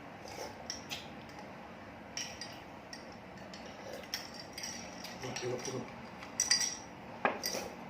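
A spoon clinks and scrapes against a bowl of iced sweet dessert with red beans and sweet corn, sounding as a string of light, sharp taps with a brief cluster of louder clinks near the end, while voices murmur faintly.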